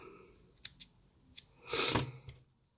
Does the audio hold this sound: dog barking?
no